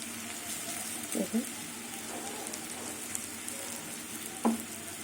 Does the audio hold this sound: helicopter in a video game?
no